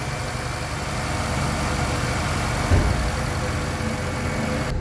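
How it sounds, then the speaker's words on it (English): A 2019 Nissan Sentra engine idles with a steady, even hum and light mechanical hiss, close and continuous with no voices. "with the motor running"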